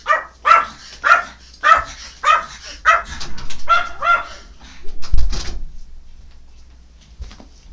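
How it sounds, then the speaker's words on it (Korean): A small puppy yips and barks in quick high bursts right beside a broadcaster indoors, about seven sharp close yaps, then softer whimpering and a thud near the end, with no speech. "이 강아지가 하도 제 옆에 있는 걸 좋아해서"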